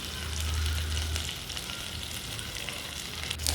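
Marinated chicken with onions frying in a pan, bachelor-style chicken fry, giving a moderate, steady sizzle with a low hum early on and occasional stirring scrapes. No one talks.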